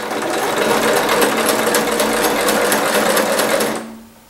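A sewing machine runs steadily and loudly up close, stitching thread between paper garland hearts, then stops abruptly near the end.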